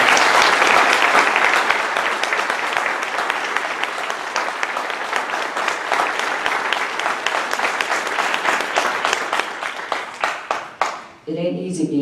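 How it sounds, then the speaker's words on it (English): A crowd at a general election candidate forum breaks into sustained applause, dense steady clapping for about eleven seconds before it tapers off and fades. "Let's give a nice round of applause for them."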